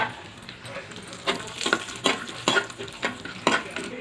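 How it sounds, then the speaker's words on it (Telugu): Dry fruits fry in a spoonful of ghee for bread halwa, a soft sizzle under regular spoon scrapes against the pan about every half second, close and without talk. "ఇప్పుడు ఫ్రై చేసుకుంటానికి నెయ్యి వేసుకున్నాను, 1 స్పూను. డ్రై ఫ్రూట్స్ వేసుకున్నాను."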